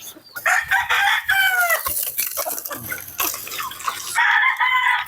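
Backyard chickens being fed give close, loud clucks and drawn-out calls, overlapping in a busy flock chorus with a few sharp pecking and dripping sounds between them.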